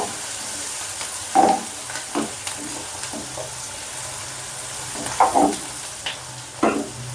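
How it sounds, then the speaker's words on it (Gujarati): Onion browns in a hot pan for sabudana khichdi with a steady low sizzle. Now and then a spoon stirs and scrapes, giving short, sharper bursts of frying noise. "હવે આપણે ડુંગળી નાખીશ અને સારી રીતે આપણે બ્રાઉન કરી લઈશ."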